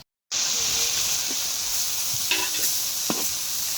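Thankuni (Asiatic pennywort) greens fry in a pan with a steady close hiss and sizzle, broken by a few soft stirring scrapes.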